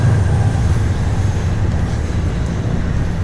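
A Toronto subway train runs through the metro near Spadina Station, a loud steady low rumble and roar with faint high squeals, continuous and close.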